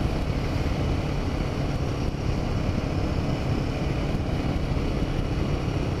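A steady, loud Royal Enfield Himalayan 450 motorcycle engine drone in fourth gear at about 4,000 rpm holds an even pitch throughout, with rushing wind noise layered over it and no voices.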